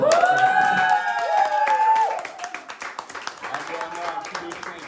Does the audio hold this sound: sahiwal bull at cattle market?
no